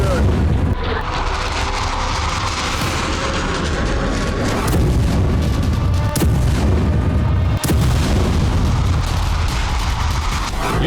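Storm Shadow missile strikes hit Russia's Kursk region: a sustained, loud, rumbling roar of explosions with sharp bursts cutting through around the middle and later on.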